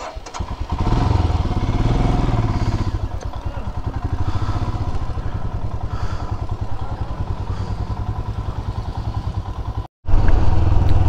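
A motorcycle rides through the Atal Tunnel on the Himalayan road between Keylong and Manali. The engine drones loudly and continuously, cuts out briefly near the end, then comes back strongly.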